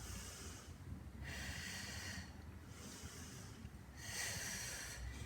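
Forceful exhaled breaths during a yoga squat-and-rise movement, three long airy bursts close to the mic over low background noise, with pauses between them.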